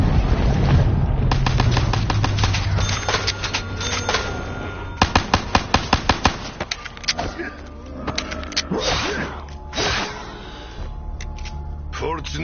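Rapid bursts of automatic gunfire from a game weapon that sprays bullets everywhere, sharp repeated cracks clustered in a fast volley midway, over a busy backdrop of game noise and intermittent talking.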